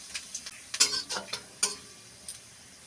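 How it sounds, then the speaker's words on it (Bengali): Cumin seeds and bay leaf dropped into hot oil left from frying potatoes, giving a few sharp crackles and pops that fade into a light sizzle, with no talking. "আলু ভাজা তেলেই দিয়ে দেবো আমি জিরে,"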